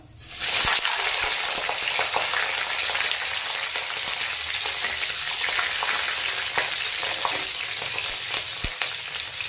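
Black and white cumin seeds with five or six green chillies frying in hot oil for a Bengali hilsa and vegetable curry, a loud steady sizzle with crackling pops that starts abruptly and runs on without pause.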